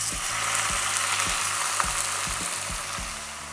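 Breaded low-carb fish fries in a hot pan with a loud, constant sizzle and crackle, close by. Low thuds and bumps from the pan recur underneath, with no talk.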